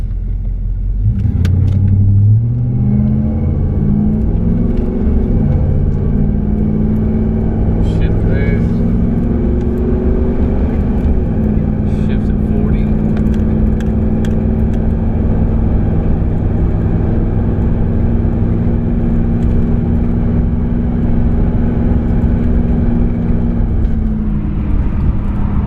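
A 1996 Chevrolet Z71 pickup with a swapped 6.0-liter V8 pulls away from a standstill and shifts through its gears. A loud, steady engine rumble builds, with brief pitch changes as each gear engages.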